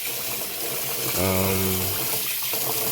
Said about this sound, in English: started putting the rice in the water to wash it